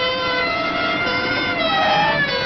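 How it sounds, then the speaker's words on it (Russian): Police car sirens wail steadily in a 1984 Italian film scene, a continuous, loud, overlapping high tone from several vehicles with a faint engine rumble beneath. "он послал за нами машины с сиренами"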